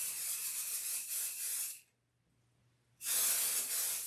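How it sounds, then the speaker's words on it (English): Aerosol spray can hissing onto the foam backing of a quilted bag panel: two steady bursts, one just under two seconds and one about a second, close and loud, with a quiet pause between them. "I'm going to just give this a nice good spray on the back"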